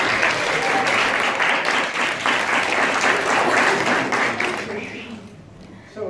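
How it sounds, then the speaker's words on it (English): Wedding guests break into dense, sustained applause and cheering after a toast at a reception, with voices mixed in, before the clapping tapers off near the end. "Give a big cheer for our man of honor, Lorenzo!"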